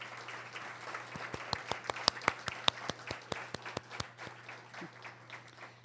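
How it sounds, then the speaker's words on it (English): Applause from the audience at the 2019 College of DuPage Athletics Hall of Fame banquet: a scattered round of clapping with distinct sharp individual claps over a steady room hum, moderately loud and without talk. "Please give them a round of applause."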